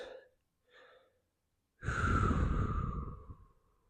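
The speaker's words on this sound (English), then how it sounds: "Breathe. 3 deep breaths." Deep breaths during a yoga warm-up: two short faint inhales followed by a long, loud, breathy exhale close to the microphone.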